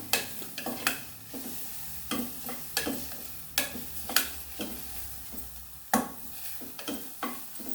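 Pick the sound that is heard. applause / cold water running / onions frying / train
onions frying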